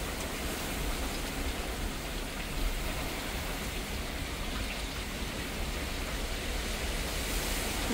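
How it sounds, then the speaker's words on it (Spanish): Heavy rain pours during a hurricane in Houston, Texas, a dense, steady hiss of water with no breaks, heard alone at moderate level. "Está fuerte la lluvia."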